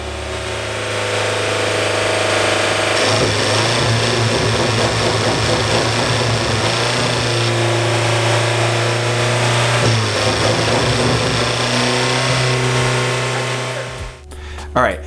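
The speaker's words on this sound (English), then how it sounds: "what that is a defective MultiAir brick. Now you'll notice that as the RPMs went up, the clicking started getting much more defined" Abarth 124 with a big turbo and a defective MultiAir brick running steadily, a loud continuous engine drone with a dense mechanical clicking layered over it that grows more defined as revs rise, before cutting off near the end.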